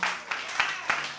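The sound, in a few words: applause at a campaign fundraiser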